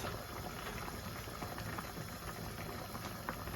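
Cabbage and rice simmer in a big pan, a soft, steady bubbling and gentle popping heard close up and fairly quiet, with no talking.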